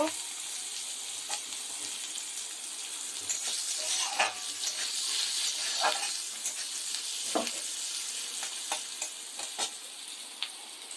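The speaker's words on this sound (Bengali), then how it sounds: "আর দেখো পেঁয়াজটা দিচ্ছি, পেঁয়াজটা ভেজে নেব।" Onions frying in a pan in oil, a continuous close sizzle punctuated by scattered spatula scrapes and stirring clicks.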